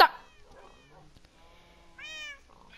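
A Minecraft cat lets out a few short, clear meows, one longer and louder near the end, with faint game noises in the background.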